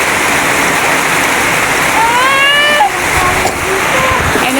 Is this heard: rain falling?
yes